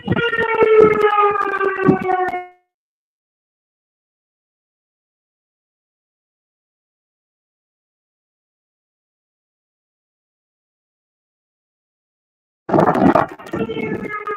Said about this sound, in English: They test all the sirens